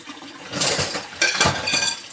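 Dishes being washed up in a home kitchen, with dishware and cutlery clattering and scraping under running water in two busy bursts, close and fairly loud, with no voices.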